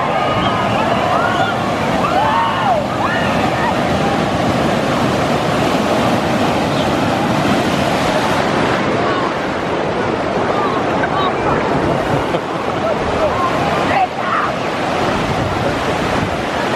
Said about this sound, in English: see right here, all the waves converge on themselves, are right there